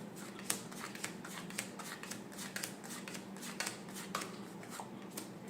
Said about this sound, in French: je vais encore mélanger les deux cartes